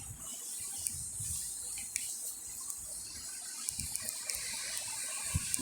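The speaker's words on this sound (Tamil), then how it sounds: "வெளியே செம்மையாக மழை பெய்யுது." Heavy rain falls outside as a steady, dense hiss broken by occasional sharp taps, with no voices.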